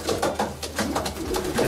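Racing pigeons coo in soft, repeated low calls while being handled up close. The cooing pulses come in a steady rhythm over a rustling background.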